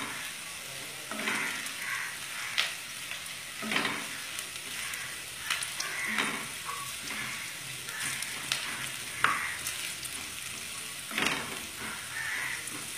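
Onions sizzle steadily in hot oil for a Bengali cabbage dish with rohu fish head, with periodic scraping stir strokes and a faint crow cawing in the background, no talk.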